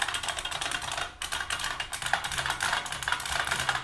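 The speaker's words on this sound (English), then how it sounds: "This keyboard, by the way, is a Model M clicky keyboard" Rapid typing on an IBM Model M clicky buckling-spring keyboard, a dense run of sharp clicks close up with a brief pause around the one-second mark, no voices.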